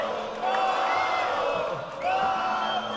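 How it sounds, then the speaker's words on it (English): A large arena crowd at an Age of Empires esports grand final cheers and whoops in a dense, continuous roar, with a louder swell near the end. "You've got an adoring crowd behind you"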